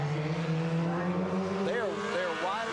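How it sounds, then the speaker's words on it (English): Legends race cars at the 1994 Summer Shootout Series roar through a turn, with engine drone joined by sweeping, wavering squeals of tires scrubbing as they exit the corner, repeating in quick bursts. "You hear the tire squall every time they come off the turn."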